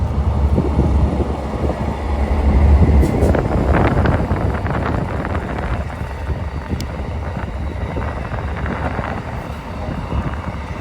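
An old Amtrak Dash 8 locomotive leads the Cardinal passenger train away from Clifton Forge. A loud, continuous rumble of engine and rolling cars is heard outdoors, with heavy wind buffeting throughout.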